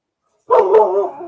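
A neighbor's dog lets out a single loud, close bark that trails into a short whine after a moment of silence.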